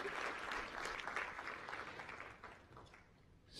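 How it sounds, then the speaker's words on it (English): A conference audience gives a round of applause at an international night of oral presentations, a steady wash of clapping that fades gradually over several seconds and stays fairly quiet and distant. "please let's just give him a round of applause"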